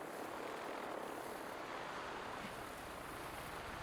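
A vertibird aircraft arriving in the game Fallout gives off a faint, steady whirring rotor drone that holds evenly throughout, with no voices over it.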